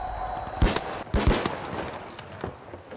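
Sniper rifle shots in the first-person shooter The Finals: a few loud, sharp cracks with short gaps between them, close and punchy over busy in-game background noise.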